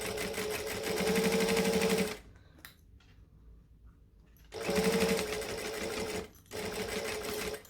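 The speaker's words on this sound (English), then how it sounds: "I'm stitching about 1/8 of an inch from the edge" A sewing machine stitches sling bag fabric about an eighth of an inch from the edge in three close, loud bursts of steady rapid stitching, broken by short quiet pauses.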